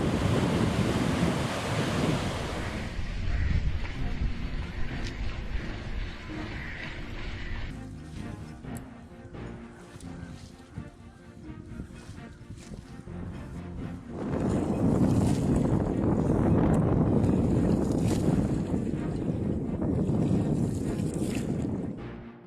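Ocean surf rolls steadily onto a coast ahead of Cyclone Amphan in eastern India, with loud crashing waves and gusting wind buffeting the microphone, swelling again toward the end.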